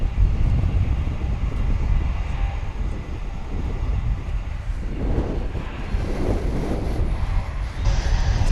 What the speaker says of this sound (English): Another heavy now approaching the starting gate here at DFW. It's going to be American flight 115 on its way to Honolulu.